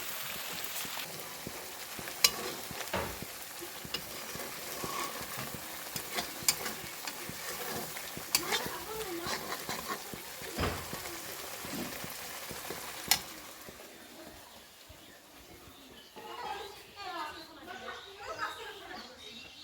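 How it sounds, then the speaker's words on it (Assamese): Dried fish frying in a pan as it is stirred, giving a continuous close sizzle with scattered scraping and clicking stirring strokes that thins out toward the end. "মই বনাই আছোঁ শুকান মাছ।"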